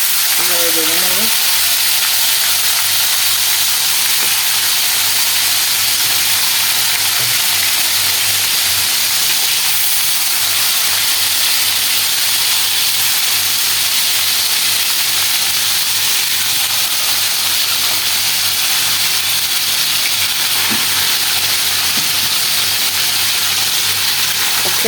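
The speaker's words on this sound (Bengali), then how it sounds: "পিসগুলো আস্তে আস্তে এভাবে ভেজে নেব।" Churi fish (ribbonfish) pieces fry slowly in a pan, giving a steady broadband sizzle and hiss that runs through the whole stretch, with faint clinks near the start and end.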